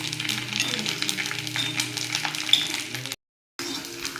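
Nylon sabudana deep-frying in hot oil for chivda crackles and sizzles steadily up close, with light utensil clinks, then cuts to silence briefly before the frying hiss returns.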